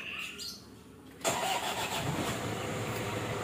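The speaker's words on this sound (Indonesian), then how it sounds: "kita hidupkan dulu untuk mesinnya" A 2013 Toyota Hilux engine cranks and catches with a sudden surge, then settles into a steady rumbling idle, heard close up with faint birdsong in the background.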